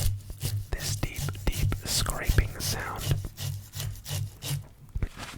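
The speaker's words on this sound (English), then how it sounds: "sound that the scaling of the salmon makes is very, very relaxing. It's like this deep scraping sound." Scales being scraped off a salmon make repeated deep rasping strokes in a steady rhythm, close and intimate, with soft whispered talk faintly underneath.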